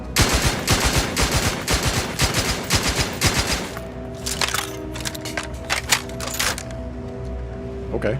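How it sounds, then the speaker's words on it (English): A sawed-off air-cooled machine gun from The Outer Worlds 2 rattles off a loud rapid burst, then trails into scattered sharper shots over a steady tonal hum, with speech mixed in. "Oh, I have a sawed-off air-cooled machine gun."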